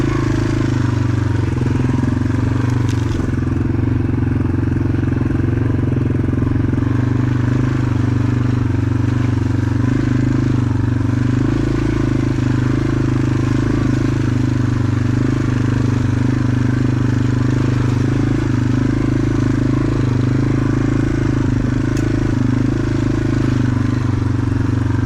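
Yamaha TW200 motorcycle rolling through mud on a trail, a steady low engine drone with clattering underneath that carries on unbroken the whole time, loud and close.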